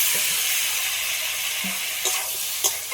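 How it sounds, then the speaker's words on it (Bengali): Loud, continuous hiss of frying masala as fried potato and kohlrabi go into the pan, with a few soft clunks and stirring knocks breaking through the sizzle. "এবার ভেজে রাখা আলু আর ওলকপিটা দেবো"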